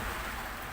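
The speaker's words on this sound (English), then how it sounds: "This rain, we could sit here on the boat bouncing and bobbing around" Steady rain from a squall patters around a boat bobbing on open water, a continuous broadband hiss with no distinct drops, moderately close.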